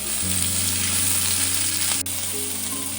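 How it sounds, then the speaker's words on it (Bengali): Sliced star fruit fries in oil in a pan for a sweet-sour chutney, a loud, dense, continuous sizzle with a brief stir partway through, no voices. "কামরাঙাটা আমরা কিছুক্ষণ ভেজে নেব"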